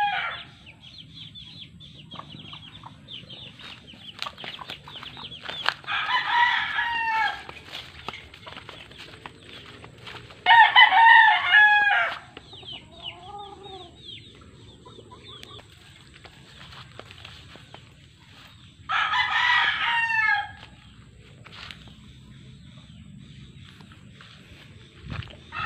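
Wild chickens near a forest edge, close to kept chickens and ginger plants: loud rooster crows ring out three times, separated by softer clucks and scattered bird calls over a low outdoor rumble.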